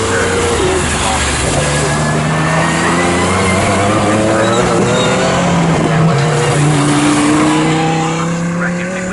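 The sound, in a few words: GT race cars racing at Snetterton, Ferrari and Aston Martin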